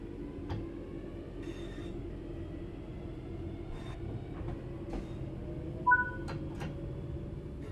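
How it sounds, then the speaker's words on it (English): A locomotive in the Train Sim World game pulling away from a stop, with a steady low rumble of engine and rails, scattered clicks and clunks of controls, and a brief two-tone chime near the end. "Let's get the train moving and see it all working."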